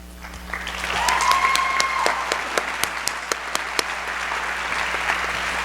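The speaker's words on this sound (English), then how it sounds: "Teachers, when I call your name, please stand with your principal for a round of applause." An audience applauds at a Teacher of the Year recognition as teachers stand with their principals. The clapping swells into a moderate, steady round, and a few sharper, closer claps stand out before it tapers off.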